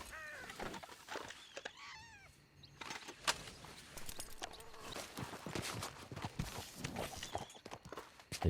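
Horse hooves and footsteps in Red Dead Redemption, a busy mix of clopping and scuffing steps with a few calls and animal-like cries over a dense game soundscape.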